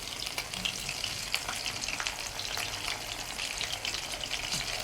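Fritter-style nasta snacks fry in oil in a pan with a dense, steady crackling sizzle. Brief bursts of spatter rise over it as pieces are turned, and no voices are heard.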